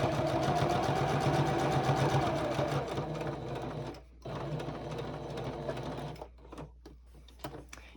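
A sewing machine runs steadily as it stitches binding onto a gingerbread star table topper, the close, loud whir pausing near the midpoint and ending in short stop-start bursts.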